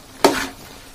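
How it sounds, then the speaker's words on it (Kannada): A single sharp scrape and sizzle as chicken sukka is stirred with fried coconut masala in a hot pan, a quick burst fading to a quiet simmer, with no voices. "ಈಗ ನಾವು ಆಗ ಫ್ರೈ ಮಾಡಿಟ್ಟ ಹುಡಿ ಉಂಟಲ್ಲ, ಅದನ್ನ ಹಾಕಿ ಮಿಕ್ಸ್ ಮಾಡಬೇಕು."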